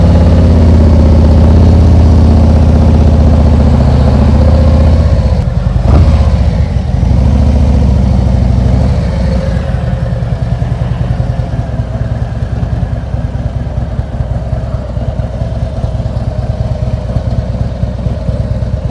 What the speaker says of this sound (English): release the clutch slowly into the friction zone, and as soon as the motorcycle starts to move